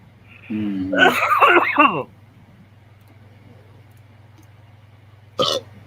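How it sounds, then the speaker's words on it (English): A drawn-out, gurgling burp-like vocal sound rises and wavers for about a second and a half, followed by silence and a brief sharp click near the end. "I thought I heard a weird ass burp or something."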